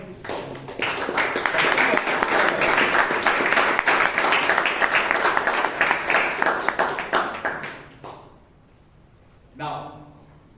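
A Toastmasters meeting audience gives a speaker a sustained round of applause, dense close clapping lasting about eight seconds before it stops abruptly, followed by a brief voice.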